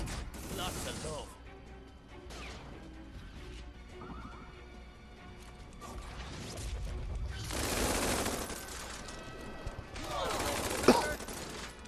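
Missile launches and gunfire in the Tiny Metal strategy video game, several loud bursts of blasts and crackling shots with whooshing impacts, layered over game music and effects, with someone talking over the action.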